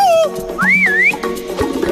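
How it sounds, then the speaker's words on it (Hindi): Cartoon whistling from the Jungle Beat animated series, a loud, clear whistle that slides down and then swoops up and down in a playful tune, with light background effects. "सीटी बजा रही है।"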